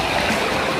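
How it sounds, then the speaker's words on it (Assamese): A mountain river in Bhutan rushes past in a dense, steady wash of flowing water, loud and close, with no voices. "এয়া নদীত পানী তামাম আহি আছে"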